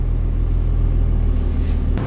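The engine of a 1970 Mercedes 280 SL Pagoda in original condition rumbles at a steady low roar, with a brief rising rev near the end.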